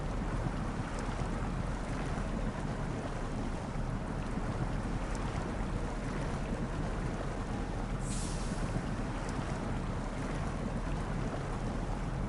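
A truck pushes through water in SnowRunner's Kincade County, a steady, loud wash of rushing, sloshing noise that holds unbroken from start to finish.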